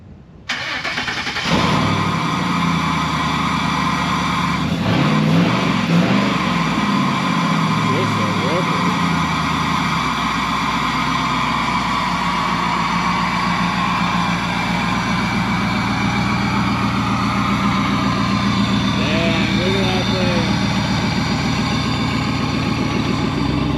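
A 1957 Chevy wagon engine cranks, catches and fires up, then revs and settles into a loud, close, rough idle with occasional sharp pops, while people talk over it.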